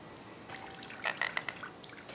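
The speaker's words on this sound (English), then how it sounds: "I have a can of baby shrimp here. This is wild-caught shrimp. And I need to drain it very well." Liquid drained from a can of wild-caught baby shrimp, a faint, brief trickle and a few small drips over about two seconds.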